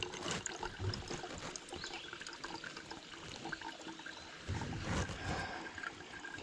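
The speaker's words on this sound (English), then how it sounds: "You can hear this nice little running stream behind me" A small running stream trickles and burbles near a hiking trail at Colonel Denning, a steady, gentle flow of water that swells slightly midway, heard alone without talk.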